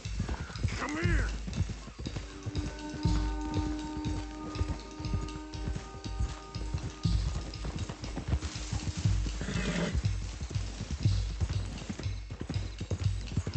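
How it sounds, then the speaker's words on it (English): Horses in the Red Dead Redemption 2 video game trot with steady rhythmic clip-clop hoofbeats, close and continuous, with a whinny near the start and again near the end. "Wrangling up some horses, some thoroughbreds."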